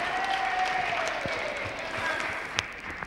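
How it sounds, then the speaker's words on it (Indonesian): An audience applauds an election candidate pair at a live televised debate, a steady, even wash of clapping that holds for about three seconds with one sharper clap near the end. "Oke, sekali lagi aplaus untuk pasangan calon kita."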